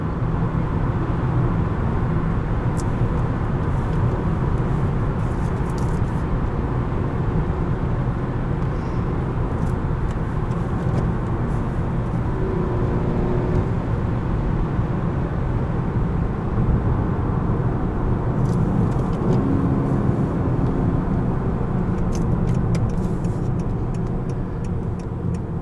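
Cabin view of a 2018 Honda Accord Sport 2.0T manual on the move, engine humming continuously with slight swells in revs during manual rev matching, accompanied by faint ticking, and no voices.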